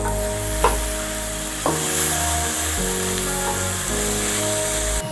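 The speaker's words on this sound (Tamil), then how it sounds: "தக்காளி நல்லா வதங்கணும்." Large chopped tomatoes sautéing in a pan for kuska, a loud steady sizzle with a few sharp knocks of a spoon against the pan and a low, steady tonal hum underneath, no speech.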